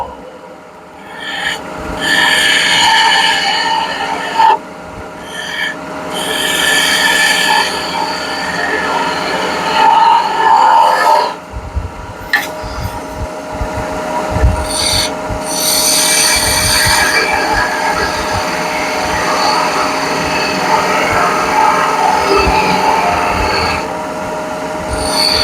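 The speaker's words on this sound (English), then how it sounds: "I'm going to use my spindle gouge to get that rest of that out for a minute." Wood lathe turning with a spindle gouge riding the bevel, giving a continuous rough rumble and scraping hiss with intermittent bursts of brighter cutting noise and a steady machine hum.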